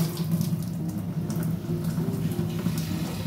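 Boiled radish greens are drained from their cooking water, a steady rushing pour of water close by that runs without pause and with no talk.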